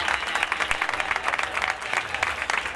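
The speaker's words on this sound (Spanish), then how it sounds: "Un aplauso para todos los guapos y guapas sin comentarios." A fair-event crowd gives continuous applause, with many hands clapping in a steady, busy patter at moderate distance and no talk over it.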